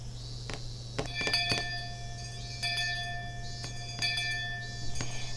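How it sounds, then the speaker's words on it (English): A bell-like electronic chime rings out at the end of the school day, its repeated clear tones sounding over a steady low hum, fairly close and moderately loud with no voices. "The bell rung, sounding the end of the monotonous school day"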